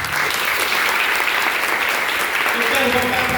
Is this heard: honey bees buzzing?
no